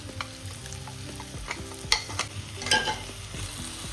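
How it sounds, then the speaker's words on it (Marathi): Ground masala frying in oil as it is stirred, close scraping strokes of a spoon in the pan over a soft continuous sizzle, with a few sharper clinks. "छान मिक्स करून घेऊया त्याचा आता या मसाल्यामधून मस्त तेल सेपरेट झालेलं आहे मसाला एकदम छान भाजलेला आहे"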